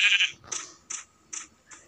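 A sheep in Minecraft bleats several times in quick succession, short bright repeated calls, close and clear with no talking over them.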